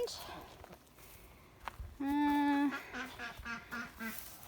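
Ducks around a dirty duck house outdoors in spring in Canada, with a loud nasal honk or quack and several shorter calls nearby over faint rustling and footsteps.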